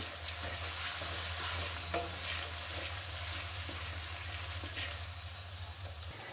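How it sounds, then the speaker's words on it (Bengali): Onion and green chili frying in a pan as they are stirred, a steady close sizzle with a low hum beneath and occasional scrapes of the spoon, no talk. "এটা ভালোভাবে আমি পেঁয়াজটা ভালোভাবে ভেজে নিব।"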